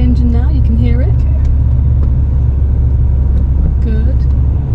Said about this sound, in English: listening to the engine now,